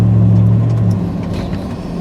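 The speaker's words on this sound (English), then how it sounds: "Sorry about that freaking traffic" Road traffic rolls past nearby, a car's engine drone loud at first and then fading as it moves away, with no talking.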